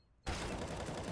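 A decoy grenade in Counter-Strike: Global Offensive (CSGO) bursts into loud, dense simulated gunfire that starts abruptly and holds as a continuous rattling barrage.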